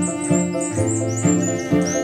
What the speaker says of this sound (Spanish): Para mí un pájaro cantando, cuando escucho su sonido, a mi entender, yo ya lo estoy viendo.